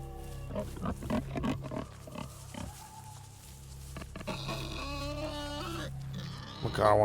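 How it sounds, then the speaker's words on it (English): Snorting grunts and squeals from a pig in a video game repeat in uneven bursts, joined by other game noises and musical tones near the end. "I want to kill that pig so I don't have to fucking hear it anymore"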